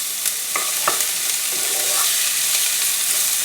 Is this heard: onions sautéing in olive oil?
yes